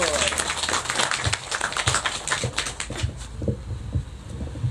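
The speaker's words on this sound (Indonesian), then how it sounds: "Tepuk tangannya yang gemuruh." An audience at a family-harmony talk claps loudly, with dense, rolling applause and crowd noise mixed in, sustained throughout with slight swells.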